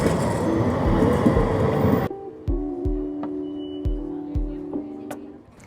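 A tram rolls in on a Valencia street with a loud rushing rumble, then slows to rhythmic wheel clunks over the track and a steady electric hum.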